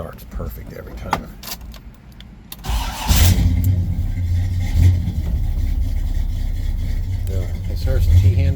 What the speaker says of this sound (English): This car starts perfect every time.